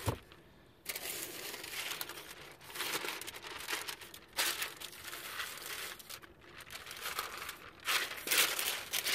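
A handmade paper window template for a camper rear window is handled, giving a continuous, close crinkling and rustling with a few louder crumpling bursts.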